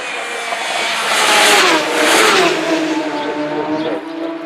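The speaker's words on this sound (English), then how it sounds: "A little bit of a spin out from the back wheel there as he opens the throttle" A superstock racing motorcycle at the Isle of Man TT accelerates hard out of a corner, its engine note swelling loud and rising in pitch as it passes close by, then fading slightly as it pulls away.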